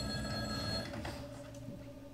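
An old-style telephone bell rings continuously during a stage performance of Ionesco's Rhinocéros, a steady close metallic trill with no talk over it.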